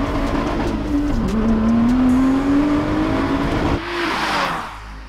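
A Lotus Exige Sport 350 with a supercharged V6 at full throttle, its loud engine note rising steadily under hard acceleration with supercharger whine, then a brief drop and rush as it shifts and pulls on.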